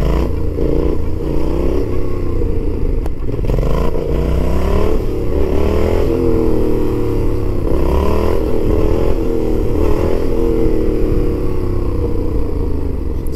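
A Yamaha MT-07 twin-cylinder motorcycle engine held at revs during a wheelie, a loud, close, sustained rumble with rising and falling pitch sweeps and steady throttle changes, no voices.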